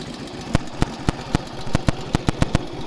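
A 1948 Indian Chief motorcycle idles after a cold start, its big V-twin thumping in a loose, uneven rhythm of sharp pops over a steady low rumble, close and fairly loud with no voices.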